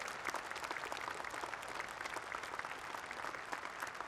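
An audience at a cooperative-movement gathering applauds steadily throughout, a soft, even wash of many clapping hands heard at a distance.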